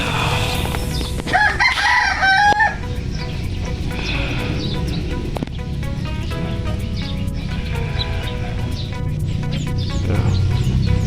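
A quality game fowl rooster in a backyard breeding yard lets out one loud, close crow near the start, followed by lower clucks and other bird calls over constant background noise.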